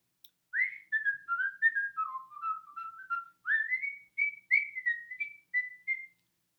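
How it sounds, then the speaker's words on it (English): A person whistles a short, melodic tune alone, clear and close, with quick notes in a bouncy, repeating phrase. "I just whistle a little song and I just feel so much better"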